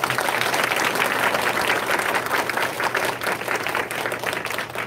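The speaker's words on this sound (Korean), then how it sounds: "다시 한번 박수 부탁드리겠습니다." Congregation clapping during a church testimony gathering, a thick, lively burst of applause from many hands that holds steady and then tapers slightly toward the end.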